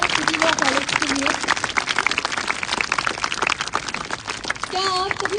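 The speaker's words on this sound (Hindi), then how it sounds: "एक और जोरदार तालियां सिटी लॉ कॉलेज के लिए।" Crowd applause breaks out for City Law College at a semi-final performance event, loud dense clapping with cheering voices and shouts mixed in throughout.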